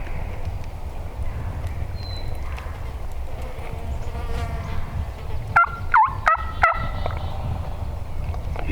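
A wild turkey gobbles while strutting at the top of a hill, giving a short, rapid, moderately distant gobble over steady outdoor background noise and insect buzz.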